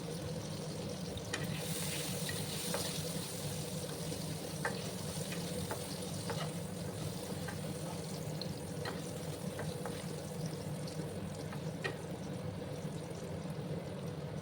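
Sliced potato rounds sizzle steadily in a pan with chili powder, a constant close frying hiss broken by small scattered pops and clicks, with no voices.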